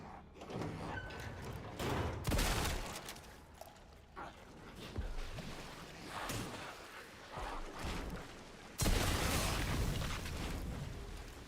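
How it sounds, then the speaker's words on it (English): Explosions in the Resident Evil Requiem video game, several loud broadband blasts and booms at irregular intervals with a big burst near the end, over gameplay noise and some mechanical clatter. "Explosion!"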